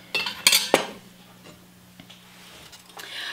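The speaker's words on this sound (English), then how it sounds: "Now I'm going to cut up a little bit of the pork that I got there" Leftover pork roast being cut up in a kitchen, a few sharp knife-and-plate clinks and scrapes near the start, then quieter faint taps and scrapes trailing off.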